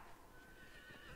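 A horse whinnies in the video game Dragon Age Inquisition, a single drawn-out neigh heard up close over game ambience and faint hoofbeats, with no talking.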